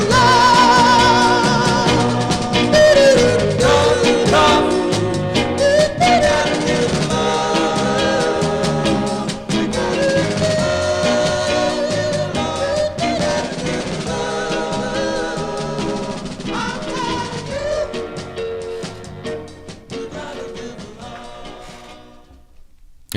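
A 1964 soul record plays with full band and vocals, loud and continuous before fading out at the end.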